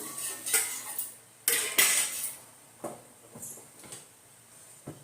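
Oil spread over a hot dosa griddle, heard as clattering metallic scrapes and taps in irregular bursts, close and fairly loud.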